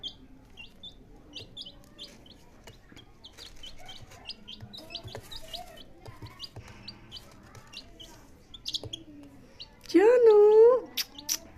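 Small birds kept in an old cage chirp in short, high, repeated tweets throughout, with a nearby voice talking softly and a louder rising call near the end.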